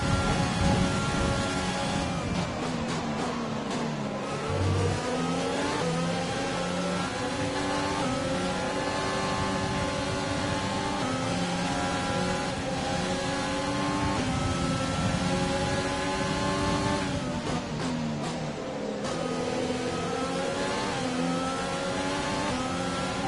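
Formula 1 car engine in the F1 2020 game at the Spain race, a loud continuous high-pitched engine note that climbs and drops with gear shifts throughout, with no voices.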